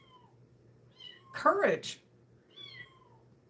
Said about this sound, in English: Can you hear my cats are outside the door?